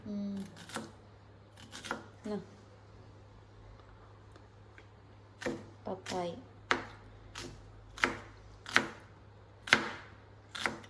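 Sharp knife chops papaya on a board, irregular at first then a steady series of about eight strikes, fairly close with faint background hum.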